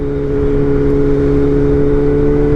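A BMW M1000R Competition motorcycle fitted with a titanium header and mid pipe, its engine held at a loud, steady high rev with a strong droning tone, close and continuous, no talking.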